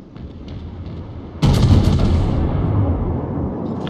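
Heavy main-battery salvo from the Kaiser battleship in World of Warships, a sudden loud booming blast that rolls into a long, rumbling decay over a low background hum.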